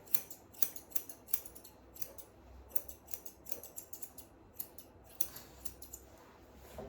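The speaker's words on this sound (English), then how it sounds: "I'm going to trim all this off." Grooming scissors trimming a short-clipped Shih Tzu's fur, quick repeated snips in an irregular rhythm, close but soft against a quiet background.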